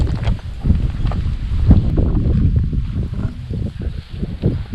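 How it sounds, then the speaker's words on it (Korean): Wind gusting across an open mountain ridge trail on Ganwolsan in the Yeongnam Alps near sunset, a steady low rumbling buffet on the microphone lasting throughout, with no other clear sounds. "이제 올라오니까 바람이 불고 하니까 좋네."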